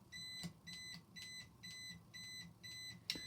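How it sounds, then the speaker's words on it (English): A faint electronic buzzer in a simple parallel electric circuit, pulsing in short, evenly spaced beeps, about seven in quick succession, over a low background hum. "the buzzer still sounds as before"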